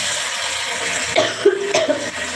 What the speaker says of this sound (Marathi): खोकला जास्त आहे आजच वाढलेला आहे